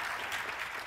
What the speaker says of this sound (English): a round of applause to welcome them.